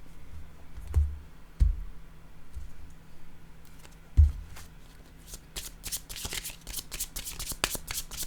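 Playing cards shuffled and dealt during a tarot-style card reading, with a few soft slaps early on, then a steady run of quick riffling flutters building toward the end, close and fairly quiet.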